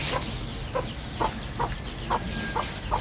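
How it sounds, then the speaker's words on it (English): Short, evenly spaced clucks from a nearby chicken in the Philippines repeat about every half second over a low ambient hum. "It wouldn't be the Philippines if you didn't hear chickens."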